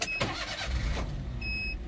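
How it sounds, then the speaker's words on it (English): A Daihatsu Hijet mini dump truck with automatic transmission and four-wheel drive starts up: a short cranking burst catches, then the engine settles into a low idle, close by. "I'll just start the engine."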